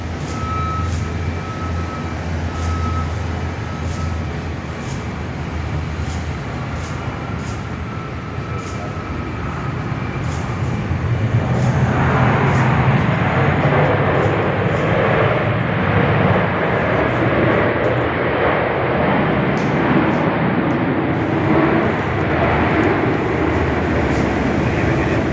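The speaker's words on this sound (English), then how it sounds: "A Qantas F100 gonna take off in a sec." A Qantas Fokker 100 jet airliner taxis and then takes off, heard from an indoor viewing platform at Perth airport: a low hum gives way midway to a loud, swelling engine roar that holds steady to the end.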